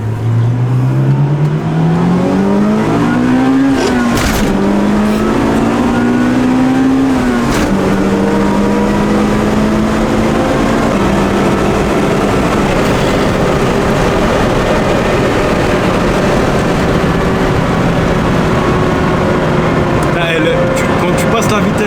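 A turbo-swapped Honda Civic on slick tires accelerates hard, its engine note climbing steadily through gears with a brief shift drop, loud and close from inside the car, then a long steady high-speed roar with wind noise.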